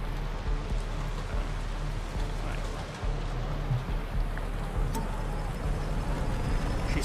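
Steady rain falls across an outdoor platform in a Tron role-play scene, a dense continuous hiss with a low rumble underneath and scattered louder drops, fairly loud and unbroken.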